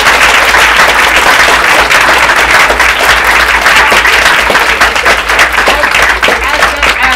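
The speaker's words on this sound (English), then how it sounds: "Let's give our panelists a great round of applause." Sustained audience applause for panelists at a game industry career panel, a dense wash of clapping from a large crowd that holds steady at full volume throughout, with faint voices mixed in.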